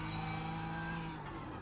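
A BMW M4 GT3 race car running on the Nordschleife in a racing game, a sustained steady engine drone with tonal whine at speed, loud and continuous with no gear changes heard.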